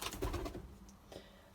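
Show racer pigeons coo in a loft, with a soft, low, throaty burst up close followed by quieter fluttering calls.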